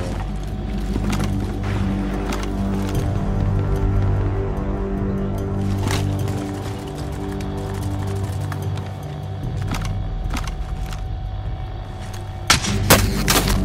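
Gunfire in Call of Duty: Modern Warfare rattles through a steady battlefield rumble, with scattered sharp shot cracks near and far and a louder burst near the end.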